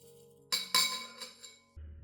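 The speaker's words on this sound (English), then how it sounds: "use a spoon to stir the mixture well so the oats disperse in the water" Spoon clinking against a clean glass cup while stirring oats into water, a quiet ring followed by two bright, sharp taps and a few lighter clinks, close and alone.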